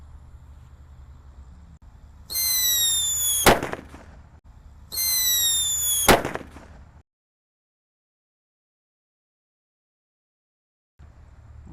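Two Wrestling King Thunder firecrackers go off in turn, each a loud rising whistle ending in a sharp crack, with a short hiss between them and then silence.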